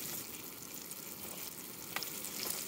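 Bluegill fillets fry in a pan of hot oil for fish tacos, a steady close sizzle and crackle holding throughout with a few brief pops and no talking.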